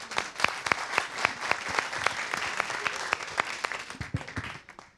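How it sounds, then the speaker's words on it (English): Applause from a crowd at a public science event, many hands clapping with sharp, closely spaced individual claps standing out in front, a few voices calling out underneath, fading toward the end. "So clap to everyone."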